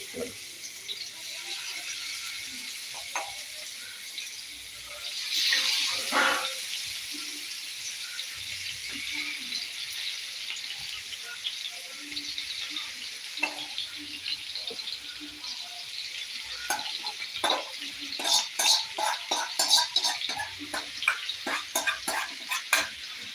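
Chicken fry sizzles softly in a pan while being stirred for a home-cooked lunch, a steady low hiss broken by scraping spoon strokes and a louder burst of crackle around the middle and again near the end.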